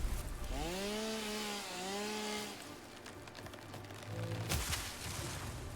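Chainsaw in The Factory Grows video game, a continuous buzzing engine drone running through most of the clip with a wavering pitch rise and fall early on, fairly loud and alone.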